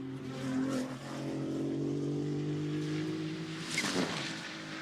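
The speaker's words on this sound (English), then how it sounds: "This is the pole car, number 1 Maserati, and Carlo Tamborini goes through." A Maserati GT2 race car in qualifying at Misano, its engine holding a loud, sustained tone that climbs and settles as it passes, with a sharper burst near the end.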